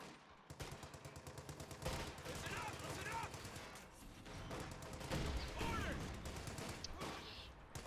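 Dense battle gunfire in the video game Company of Heroes 2, rapid repeated shots and machine-gun bursts layered with crashes, continuous and loud with a voice talking over it.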